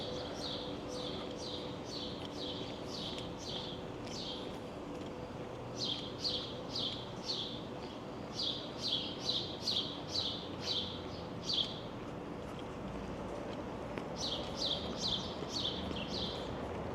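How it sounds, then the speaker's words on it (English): Birds on a tree-lined street in dense downtown Toronto repeat a quick series of high, sharp chirps in bursts for the whole stretch, over a steady low city hum. "You have the ever-present chirping of the birds."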